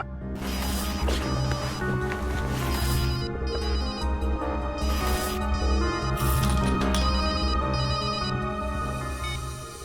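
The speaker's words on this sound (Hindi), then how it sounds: "फोन तो इस बैग में से बज रहा है।" A mobile phone rings from inside a bag, its repeating ringtone melody loud and continuous throughout, with layered electronic tones and no talking.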